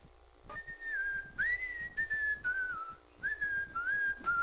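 A man whistles a melodic tune alone, with clear sustained notes rising and falling in several phrases separated by brief pauses, close and fairly loud.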